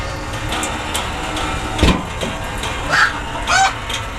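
Chickens cluck in a few short, scattered bursts close by, over a low steady background hum.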